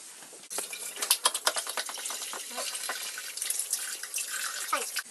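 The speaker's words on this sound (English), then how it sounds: "first thing we're going to do is wash our hands" Hands washed under a running kitchen tap before baking, with steady splashing water and uneven sloshing and rubbing bursts as the hands move through the stream, close and fairly loud.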